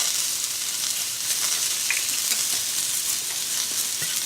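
Red and green peppers stir-fry in a hot wok, giving a loud, continuous sizzle and hiss with faint scraping from the stirring throughout.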